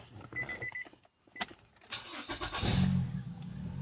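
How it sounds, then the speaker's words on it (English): A car engine cranks and catches after a retried start on a weak battery, a short starter whir followed by the engine settling into a close, steady idle. "So I'm going to attempt to start the vehicle once again"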